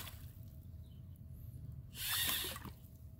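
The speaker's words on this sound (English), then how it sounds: "Careful, splashes." The paddles of a LEGO Mindstorms EV3 paddle boat built on a plastic bottle throw up a short, bright splash of water that rises abruptly for about half a second over a quiet, low hum.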